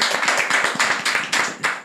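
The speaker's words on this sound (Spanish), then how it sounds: "Quiero que reciban un fuerte aplauso, mi gente, que se caiga el estudio" A small group in a podcast studio claps, giving a brief burst of brisk, close applause with rapid overlapping hand claps that carries on steadily.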